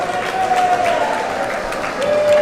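Crowd applauding bocce champions at a bocce finals event, a steady wash of clapping and cheering with a tonal whine running through it.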